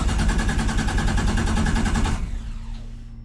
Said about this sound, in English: the engine is turning. I've just chucked in some fuel and still nothing.